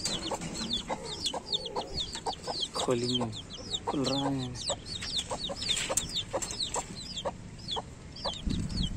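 Desi hens and chicks cluck and cheep continuously close by, with a few louder drawn-out hen calls, while someone speaks intermittently over the flock.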